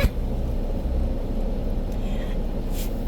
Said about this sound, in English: my transmission is going out on my vehicle, so if it sounds like this is a low-flying aircraft